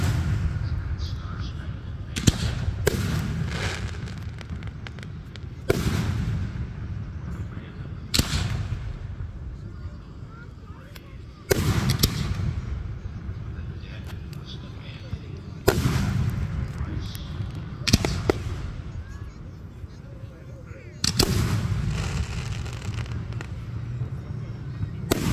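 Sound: Fourth of July fireworks bursting

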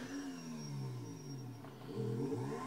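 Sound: vehicle engine revving during a wheelie in a video game

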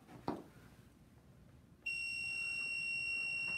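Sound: sublimation mug press beeping

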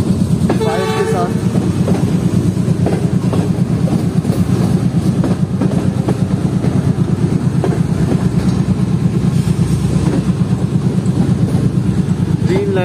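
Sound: Hazara Express train passing by

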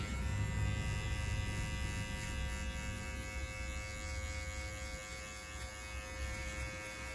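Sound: electric hair clippers cutting hair

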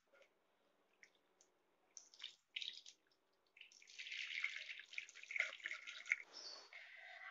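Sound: washing homemade butter with clear tap water

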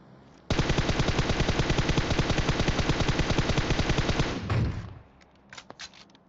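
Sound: gunfire in a video game

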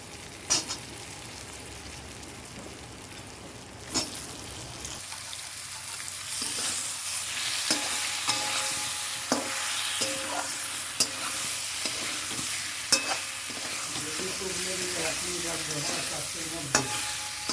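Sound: boiled potatoes stirred into fried onion

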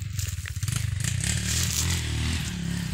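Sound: motorcycle climbing a steep hill

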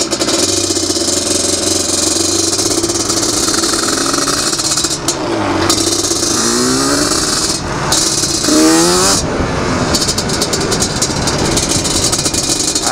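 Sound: Yamaha Banshee ATV engine running

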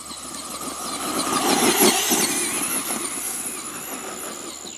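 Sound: Traxxas Bigfoot RC monster truck, brushed motor, driving

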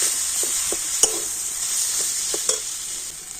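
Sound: boiled potatoes added to frying spices, stirred in pan

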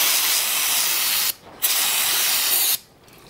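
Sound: brake cleaner spray on cylinder head

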